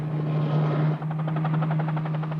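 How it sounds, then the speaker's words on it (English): A ship-based helicopter launched from the vessel Calypso, 30 miles south of Belize City, drones steadily with a strong low rotor hum and pulsing blade chop, loud and continuous with no voices. "Calypso's helicopter is dispatched."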